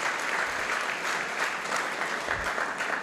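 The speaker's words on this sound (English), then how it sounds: "Can I have one applause for one of our esteemed guests," Sustained applause from a conference plenary audience greeting an esteemed guest, the Minister of Health of Guinea, a dense steady clatter of many hands lasting the full few seconds at moderate volume.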